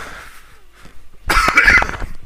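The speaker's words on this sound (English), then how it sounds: "I've got a bit of a cough and a cold at the moment." A single close, harsh cough bursts out after a quiet moment, loud and rough against faint room noise.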